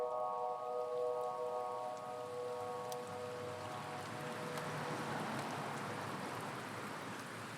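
Rain pours down on Brixton Road in South London, a dense, hissing wash that swells gradually, with a faint tonal hum fading out early on.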